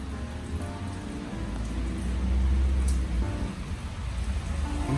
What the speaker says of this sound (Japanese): 外の雨のサウンドもいい感じでしょ